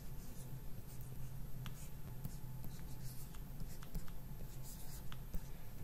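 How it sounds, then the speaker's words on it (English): Pen scratching steadily on paper while numbers are written sideways during a math lesson on adding and subtracting integers, close and fairly quiet with small strokes and taps and no talking. "Okay, I'm going to write them sideways."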